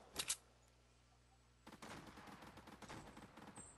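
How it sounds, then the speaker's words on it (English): Shotgun battle in Fortnite heard at a distance: a quick burst of shots, a short lull, then a steady run of faint overlapping gunfire from another fight nearby, no talk. "there's a shotgun battle going on over here"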